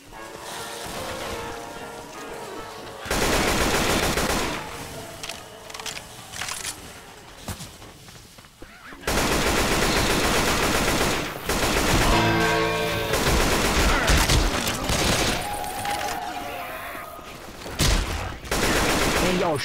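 Gunfire in the Left 4 Dead 2 video game on Xbox One, with rapid automatic bursts and a steady stream of shots, loud and close, running through most of the clip and stopping for brief pauses.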